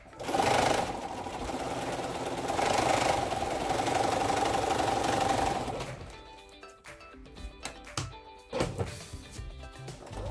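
A sewing machine stitches a quilt block in a steady fast whirring run for about six seconds, then stops, leaving faint handling clicks and rustles of fabric nearby.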